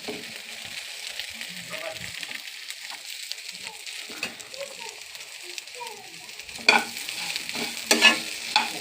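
Vegetables for sambar, radish, broad beans and carrot, sautéing in a hot pan with steady sizzling and scraping stirs, a few sharper clinks of the spoon near the end, over faint background voices.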